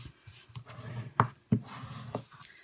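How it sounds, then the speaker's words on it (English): Bone folder burnishing a score line on cardstock, a series of soft rubbing strokes with a few sharp taps and scrapes between them, close and quiet. "So I'm just going to burnish that score line with the bone folder."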